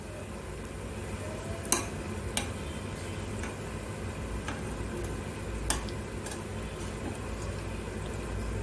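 Bread slices fry gently in a pan on a low flame for shahi tukda, a steady, moderately loud bubbling sizzle with a few sharp ticks and clicks at intervals, close and continuous with no talking.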